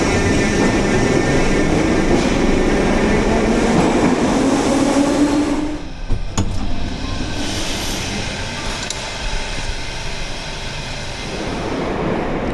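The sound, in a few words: metro train at Kosmonautų metro station, Uzbekistan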